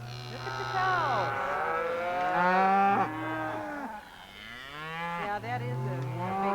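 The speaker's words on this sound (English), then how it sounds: "Look at the cows." Cows and a bull on a Montana ranch moo loudly and repeatedly, long drawn-out calls overlapping one another, close by with outdoor background noise.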